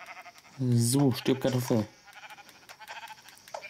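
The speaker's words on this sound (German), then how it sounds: "Oh, ein Schaf. Zwei Schafe." A Minecraft sheep lets out a loud, close, wavering bleat lasting about a second. Quieter game ambience follows, with someone speaking over it.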